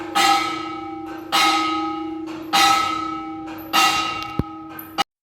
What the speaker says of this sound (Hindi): आपने अब ये जो घंटी सुनी है मंदिर की